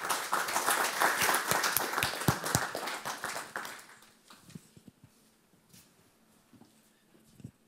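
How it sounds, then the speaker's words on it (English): A conference audience gives a final round of applause for the speakers, loud dense clapping for about four seconds that fades into scattered claps and quiet room noise. "I think we're going to give a final applause to all the speakers"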